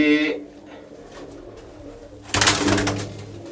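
Low, rolling coos from Red Chini pigeons in a loft, faint and steady, with a louder, fuller burst of cooing and fluttering near the end; no one speaks.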